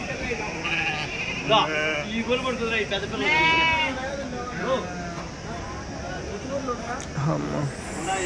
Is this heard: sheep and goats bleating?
yes